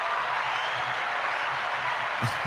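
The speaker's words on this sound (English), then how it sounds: "Let's give her a round of applause" Steady, dense round of clapping from an audience, even and sustained throughout with no voices standing out, ending in a couple of louder low thumps.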